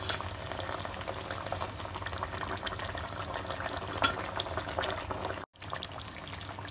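Pomfret fish drops into a simmering mustard and poppy seed gravy in a pan, giving a steady, close bubbling sizzle that runs throughout with one brief break near the end.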